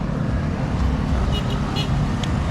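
Steady roadside traffic roar of cars rushing past at speed, loud and continuous with a brief faint horn-like tone mid-clip; no one speaks.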